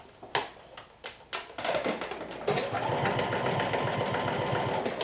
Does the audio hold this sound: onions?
no